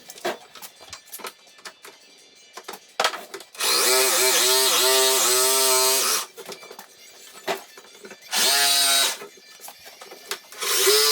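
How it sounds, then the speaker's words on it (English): A power drill bores into wood in two loud bursts, the motor whining and bogging as it bites, with handling clatter between them. "drill all of the holes at the same time because that'll speed it up as well."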